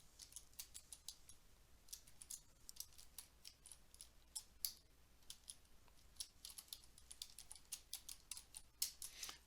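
Rapid, steady clicking of keys on a computer keyboard as an email address is typed in, close and fairly quiet, with no voices.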